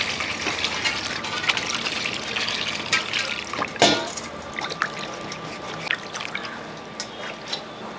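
Water is poured and splashed over a scraped bottle gourd in a Kerala kitchen, a soft, continuous trickle with intermittent splashes and clatter, close and fairly quiet.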